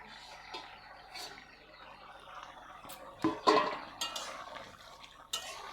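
Potatoes being stirred in a cooking pot with a spoon scraping and clinking against the metal, a few sharper knocks over a soft bubbling background.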